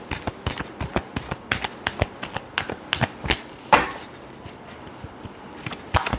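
Tarot cards being shuffled by hand in a series of crisp, rapid riffling taps and flicks, close and fairly quiet, with a brief busier burst midway and no talking.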